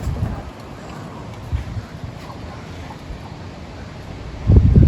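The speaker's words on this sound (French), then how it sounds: "le vent il est fort" Steady wind roars and buffets a microphone, with gusts building louder toward the end and no voices.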